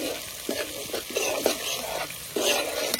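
Homemade ginger-garlic paste fries in a pan for a village-style mutton organ curry, with a soft, steady sizzle and repeated scraping stirs of a spoon against the pan, fairly quiet and close.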